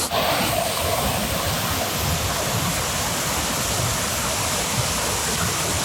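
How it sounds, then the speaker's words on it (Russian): Powerful 10-12 metre waterfall cascades roaring in a dense, unbroken wash of rushing water, loud and close, with no talking. "Здесь мы видим 3 небольших каскада. Метров 10-12 эти водопадики. Но они очень мощные."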